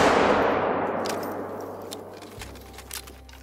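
A single loud rifle shot rings out on the savanna in the hunting game Call of the Wild during a multiplayer hunt. Its booming report fades slowly over a few seconds, followed by faint small clicks, with no talk.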